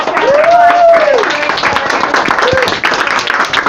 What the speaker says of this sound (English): applause for all 4 up front really quick